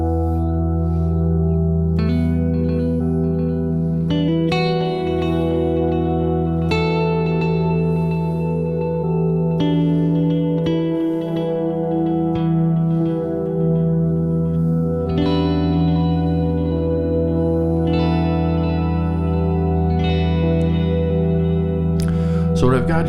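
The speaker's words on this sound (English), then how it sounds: "I'm running it at half speed on the drum setting, which is the Echo Rec" A Volante echo unit on its drum setting at half speed turns sustained, distorted electric tones into layered, ringing repeats that swell and shift over a steady low drone, loud and continuous throughout.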